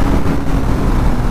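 A 2022 BS6 KTM Duke 250 motorcycle runs hard, its engine giving a loud, close, low droning roar that holds steady through the brief stretch with no voices.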